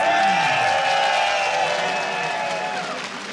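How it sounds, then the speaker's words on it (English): Large arena crowd at an esports event, a StarCraft 2 tournament at IEM Katowice, with a steady wash of cheering and applause close around, filling the whole stretch without a break. "Can you hear all that cheering?"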